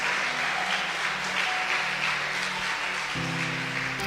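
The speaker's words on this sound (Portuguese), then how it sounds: "aplauda o nome do Senhor Jesus" A church congregation applauds, a continuous hiss-like wash of clapping that holds steady throughout, with a low tone entering near the end.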